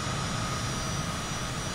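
Cessna Citation CJ4 business jet climbing just after rotation on takeoff from San Antonio, a loud steady engine roar filling the cabin with constant broadband rush and no break.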